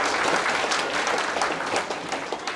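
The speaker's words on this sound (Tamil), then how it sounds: "ஒரு நல்ல கைதட்டு கொடுங்க." Audience applause at a Madurai humour club anniversary and birthday celebration, a steady wash of many hands clapping close and fairly loud throughout, with no voices over it.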